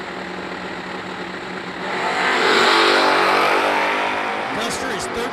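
A Pontiac Firebird and a Forest Green Plymouth Duster launch side by side at a drag strip, a loud engine roar swelling and holding as the cars pull away, with an announcer's voice over it.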